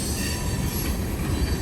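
Freight train with locomotives rolling past, wheels squealing over a continuous loud rail rumble, heard close and without talk.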